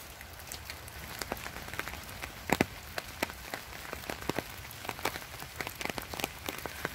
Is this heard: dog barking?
no